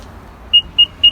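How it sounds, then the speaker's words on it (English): Three short electronic beeps ring out at even intervals from a 2018 Nissan Murano Platinum power liftgate as it closes, sharp and clear against a quiet background. "I get my beeping and it closes."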